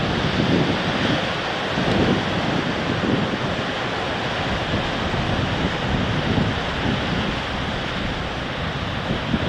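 Heavy sea surf rolling in at Cullen on the coast, with steady wind buffeting the microphone; a continuous loud roar of breaking waves with no voices.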